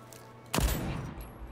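A single sharp burst of turret gunfire in the video game Deathloop, loud and close, followed by a decaying rumble with no talk over it.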